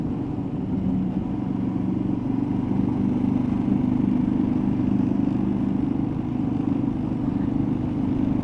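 Steady mid-pitched engine drone with light clatter from a motorcycle riding on a road between Paro and Thimphu in Bhutan, continuous and fairly close, with no talk.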